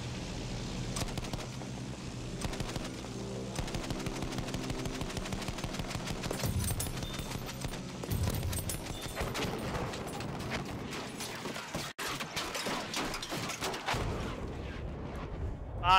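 Dense, continuous gunfire from a heavy-recoil weapon in the video game Battlefield 1, with rapid bursts and booming shots layered over a busy battlefield mix, loud and sustained throughout.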